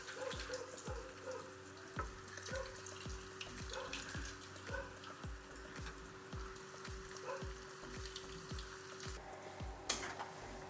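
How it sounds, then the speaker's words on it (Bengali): Aloo pakora fritters deep frying in hot oil, a faint steady bubbling sizzle with a regular series of low thumps and a steady hum in the background. "দেখুন আমি ভেজে নিচ্ছি।"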